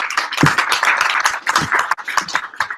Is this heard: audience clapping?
yes